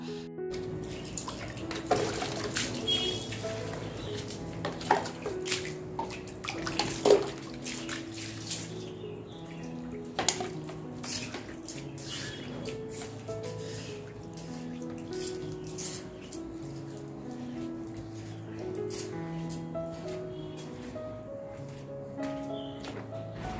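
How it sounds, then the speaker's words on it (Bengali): Water is poured and splashed across a home's entry doorway floor as it is washed, a steady running and splashing wash with occasional drips and light clatter. "এই দুয়ারটাও জল দিয়ে ধুয়ে দেবো।"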